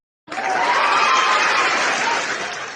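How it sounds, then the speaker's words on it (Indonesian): An audience at a religious debate breaks into applause, starting abruptly and holding a full, steady round of clapping for a couple of seconds. "tepuk tangan saudara-saudaraku"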